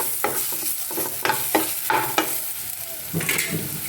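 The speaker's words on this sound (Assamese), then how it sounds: "এইকণ ভাজি লওঁ।" Turmeric and cumin powder crackle in hot oil while a spatula stirs and scrapes the pan in short repeated strokes, close and clear with no talking.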